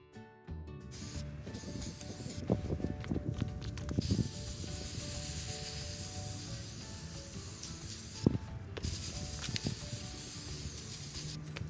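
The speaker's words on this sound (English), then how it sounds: "So I'm just going to spray paint these." Aerosol spray paint hissing onto plastic pumpkins close by, a steady broadband spray running nearly the whole time with small bursts and clicks of handling, no talking.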